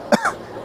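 A short throaty cough during rubber neti nasal cleansing: one sharp, close burst followed by a faint rasp, then the start of another cough.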